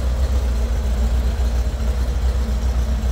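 A 1964 Chevrolet Corvair Monza 900 coupe engine with dual carbs idles steadily with a low, even rumble, close by and continuous with no revving.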